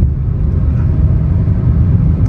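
A 2024 Maruti Swift facelift's three-cylinder engine pulls steadily in fourth gear, giving a continuous loud low rumble with even road noise and no talking.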